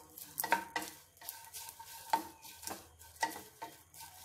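Dried prawns dry-roast in a pan with no oil, stirred in bursts: intermittent scraping and rustling strokes with soft crackles between them, close and fairly quiet.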